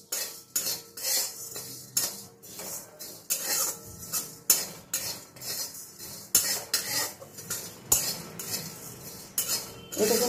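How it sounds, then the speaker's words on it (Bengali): A spatula scrapes and clinks against a dry pan while cumin and coriander seeds are stirred, giving a steady run of close metallic scraping strokes with no talk over it. "শুকনো খোলায় আমি জিরে আর ধনেটাকে নাড়াচাড়া করছি।"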